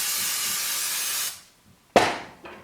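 Steady butter-flavored cooking spray hissing for over a second into a pan, a short pause, then a second quick burst of spray tapering off.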